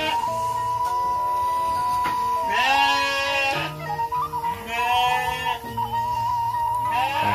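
Garut rams bleat several times in a pen while a steady tonal hum runs underneath; the calls are loud, drawn-out and wavering, arriving in separate bursts.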